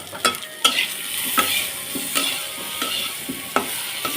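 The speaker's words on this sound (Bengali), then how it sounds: "এখন আমি এর ভিতরে দিয়ে দিচ্ছি কাঁচামরিচ কুচি।" Chopped green chillies being stir-fried with pumpkin in a pan, with a utensil scraping and tapping in an irregular rhythm over a soft sizzle, close and fairly loud, with no talking.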